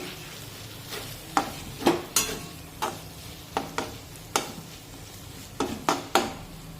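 Masala frying in oil in a kadhai for a village-style eggplant curry: a low sizzle under repeated sharp spatula knocks and scrapes against the pan, roughly every half second, close and fairly loud.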